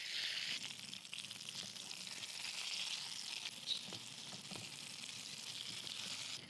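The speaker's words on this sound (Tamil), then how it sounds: "நல்ல தாராளமாக எண்ணெய் ஊற்றி சிக்கனை வச்சு" Chicken pieces marinated in masala fry in a generous amount of oil for iffa chicken, a steady broadband sizzle and crackle running throughout, close and fairly loud, with a few brief pops and no talking.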